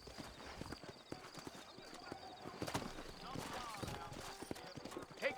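Horse hooves clip-clop at a steady walking pace through a frontier town in the New Austin region of Red Dead Redemption, moderately close, with a voice talking over the hoofbeats.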